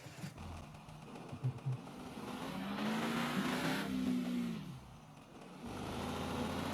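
A Honda City engine starting and revving in the Car For Sale Simulator video game, with a rising then falling engine tone that is moderately loud and close, with no talk over it.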